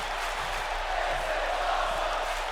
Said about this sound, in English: And the crowd chant, "This is awesome."